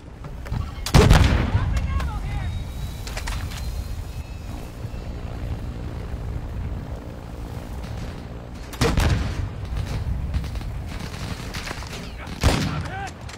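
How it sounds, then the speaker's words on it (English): Gunfire in Fortnite comes in several loud bursts of shots and booms over a continuous game background, with quieter stretches between the bursts, some bursts seeming farther off than others. "Oh, people are shooting at him."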